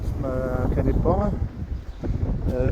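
Wind blowing across the harbour at Canet-en-Roussillon's port, a steady broadband rush buffeting the microphone throughout, with someone talking over it close by.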